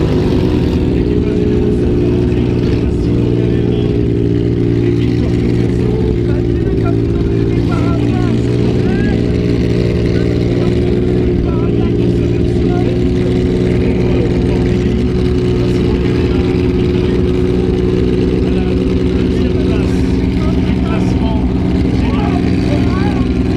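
A rally car engine at the Monte-Carlo Historique rally runs loudly and continuously, a dense droning rumble that holds steady at close range, with faint crowd noise around it.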